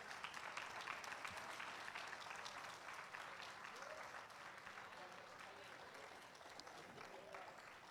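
A congregation applauds steadily throughout, a dense, sustained wash of clapping with a few voices mixed in.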